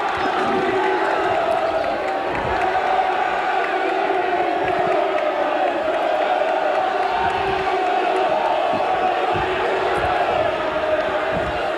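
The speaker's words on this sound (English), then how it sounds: "So the Castleford fans cheering again now." Castleford rugby league fans in a stadium crowd at a Challenge Cup match against Leeds roar and cheer in a sustained, dense wall of sound, with a commentator's voice faintly underneath.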